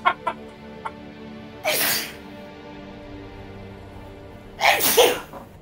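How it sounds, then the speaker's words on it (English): Two sharp sneezes burst out a few seconds apart, close and loud, over a quiet background with faint clucking tones at the start during a tabletop game session. "And someone's sneezing."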